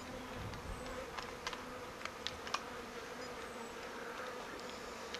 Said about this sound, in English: This is the swarm of bees close up.